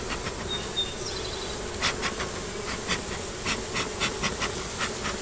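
Irritable honeybees buzz continuously and close by around a beekeeper's smoker, a dense droning hum with occasional louder swells as individual insects pass near.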